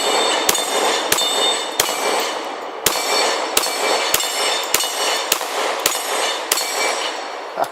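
Repeated firearm gunshots, loud sharp reports roughly every half second to second, about a dozen shots over a continuous mechanical roar, with no talking.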